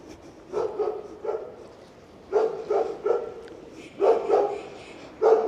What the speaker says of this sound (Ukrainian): щось тут собака лає